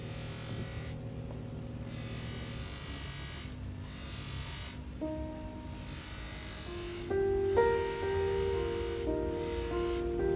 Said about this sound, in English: And here is the polishing machine.